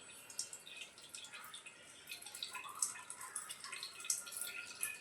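Whey drips from hung curd tied in a cloth bundle, making faint, irregular small drips and trickles that come steadily in a quiet room.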